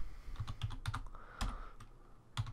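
Typing on a computer keyboard, close and quiet: a quick run of key taps, a brief pause, then a couple more keystrokes, with no talking.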